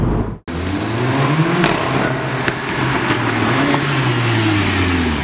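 A Mercedes-Benz A45 AMG hot hatch revs hard after a brief cut, its engine note climbing and falling in long sweeps, loud and close throughout with no voices.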